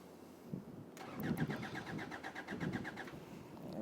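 A Hyundai Santa Fe with a crank-no-start fault cranks steadily for about two seconds, a close rhythmic starter whir with regular pulses that never catches, with faint murmur nearby.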